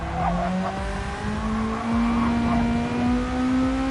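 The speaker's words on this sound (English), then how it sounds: "I have to admit that Volkswagen Beetle sounds lovely though." A Volkswagen Beetle engine races in Gran Turismo 7 at Interlagos, a steady droning hum with a rising tonal whine, tire squeal and other cars mixed in, continuous and close.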